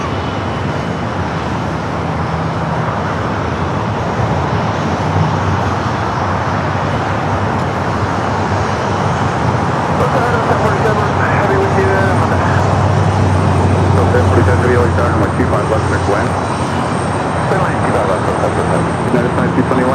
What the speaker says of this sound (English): Philippine now rolling down 24 left, flight 123, heading back to Manila.